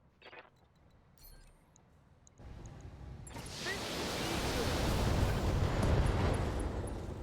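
Long-range missiles explode in a mech combat video game, a faint early pop followed by a swelling, sustained roar of blast and debris that builds and holds loud to the end.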